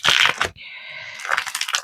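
Crinkly rustling of paper packaging being handled and opened, with a short quieter stretch in the middle, close by.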